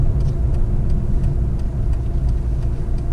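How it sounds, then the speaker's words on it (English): A car towing a camper trailer drones along a country road, its engine and tyre rumble steady, loud and continuous with no talking. "Touch wood, the car is still running very well."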